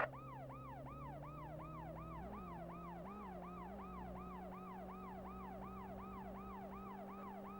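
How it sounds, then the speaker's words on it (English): A police car siren from the video game Worlds Scariest Police Chases wails continuously in a steady, rapid up-and-down rhythm, faint and alone with no voices. "the sirens make the cars move out the way"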